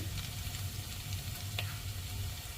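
Mustard seeds crackle in hot oil as a tempering for spicy Maharashtrian misal-style matki bhaji; a steady close sizzle runs throughout with one sharper pop midway and no voices.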